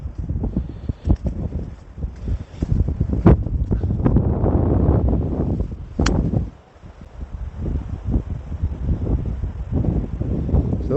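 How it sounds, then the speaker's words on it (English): Strong wind buffeting the microphone on a golf course in Brandon, loud gusty roaring in bursts with brief lulls, no talk. "the wind's flying into my face"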